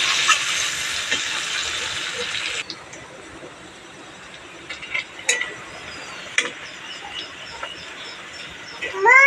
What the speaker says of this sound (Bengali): পেঁয়াজটাকে আমি বেরেস্তার মতো করে ভেজে নেব